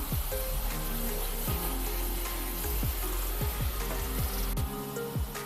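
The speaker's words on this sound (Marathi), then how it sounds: "आता मिक्स करून घेऊया आणि एक ते दोन मिनिटासाठी व्यवस्थित परतून घेऊया" Mushroom masala with cashew paste sizzles in a pan as it is stirred and sautéed, with a steady frying hiss and repeated scraping and knocking of a spoon against the pan.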